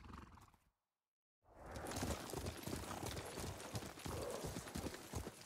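Horse hooves clip-clopping in the video game Ghost of Tsushima: a brief silent gap, then a steady, close, rhythmic trot of hoofbeats that carries on to the end, with no talk over it.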